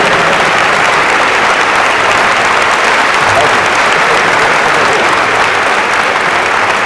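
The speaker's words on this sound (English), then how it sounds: "Let's join him in a rousing round of applause." An audience applauds at a university homecoming convocation as speaker Travis Pratt is welcomed, a loud, dense, sustained roar of clapping filling the whole stretch, with faint talk mixed in.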